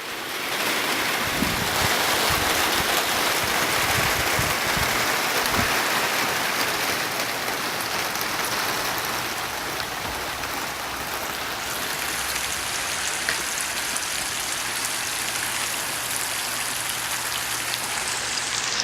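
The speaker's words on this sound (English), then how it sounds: "Nice rainy day in Washington." Steady rain hisses continuously for the whole stretch, a dense wash of drops on surfaces with occasional louder splashes, no voices.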